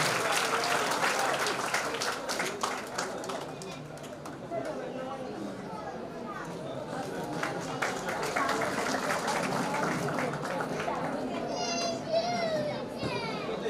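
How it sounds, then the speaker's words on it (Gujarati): Sustained crowd applause at a police camp farewell ceremony, steady and dense across the whole stretch, with children's voices and chatter mixed in. "આપણે બધાની ફરજ પડે છે તાળીઓના ગડગડાટથી વિરામ લઈએ"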